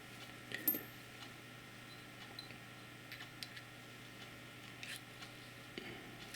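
Small metallic clicks and faint scrapes as the aperture diaphragm of a Volna-9 50/2.8 macro lens is taken apart, sparse quiet ticks over a hushed background.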